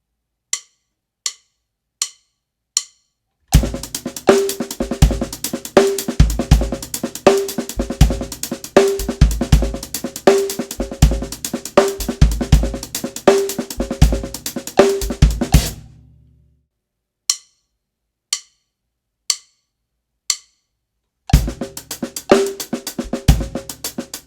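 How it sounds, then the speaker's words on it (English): A drum kit plays a septuplet groove of linear hand patterns, opening with four evenly spaced count-in clicks, then a busy, loud, steady rhythm that stops, more clicks, and the groove returning. "the septuplet groove sounds like this"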